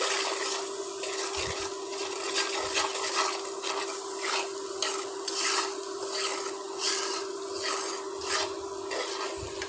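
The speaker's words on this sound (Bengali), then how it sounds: "আর দিয়ে দিব আদা রসুনের বাটা মশলাটা একটু ভালোভাবে কষিয়ে নিচ্ছি" Ginger-garlic paste sautéed in a pan for a drumstick and pumpkin curry, with steady sizzling and rhythmic scraping strokes of a spatula stirring the masala, close and continuous, no talking.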